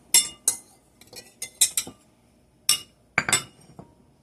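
An egg is cracked against a bowl while making strawberry frozen custard: a quick series of sharp, close clicks and clinks in uneven bursts, separated by short silences.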